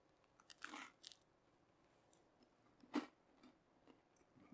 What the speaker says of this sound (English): these are nice and crispy. I don't know if you can hear that. The cheese on the top is crispy,